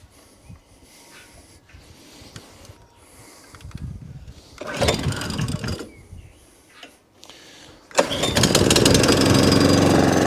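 After a few quiet mechanical clicks, a Kawasaki FJ100 engine on an Allett Kensington lawn mower cranks and sputters, then catches and runs with a loud, steady roar, after a carburettor cleaning for hunting and surging.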